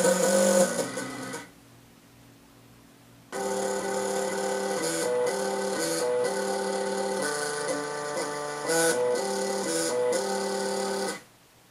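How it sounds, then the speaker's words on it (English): Stepper motor driven at varying speeds to play a song, giving a series of buzzy, machine-like musical tones that step from note to note, with a brief near-silent gap early on before the melody resumes steadily. "We modeled a typical step motor's sounds and equated different speeds to each note on the musical scale"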